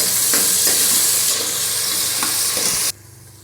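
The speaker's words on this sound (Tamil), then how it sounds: "அடுத்து தக்காளி போட்டுக்கோங்க. தக்காளி நல்லா வதங்கட்டும்." Tomatoes frying with onions in a pan, a loud, dense, steady sizzle with a few stirring scrapes, cutting off abruptly near the end.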